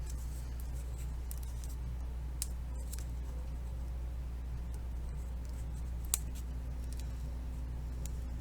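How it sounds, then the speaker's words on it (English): Quiet, sparse snips of scissors cutting paper, a few crisp clicks spread over a steady low background hum. "And then I can use my scissors to cut off any excess"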